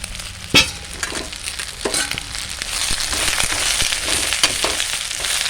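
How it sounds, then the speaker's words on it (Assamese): Garlic and chili sizzle and crackle in a hot pan, with occasional sharp clinks and scrapes of stirring throughout, no voices. "নহৰু আৰু জলকীয়াখিনি ৰঙচুৱা হোৱালৈকে মই এইদৰে ভাজি ল'ম"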